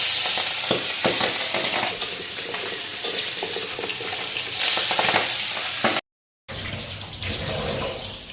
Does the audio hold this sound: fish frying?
yes